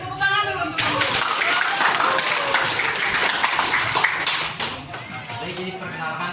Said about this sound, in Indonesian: Beri tepuk tangan dulu untuk guru